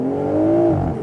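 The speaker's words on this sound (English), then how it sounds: "In sport, the exhaust valves are open, and with the roof down, you can really hear it." A 2023 BMW Z4 M40i with the roof down and exhaust valves open in sport mode gives a short, loud engine drone that climbs in pitch and then drops as revs fall, with no talk.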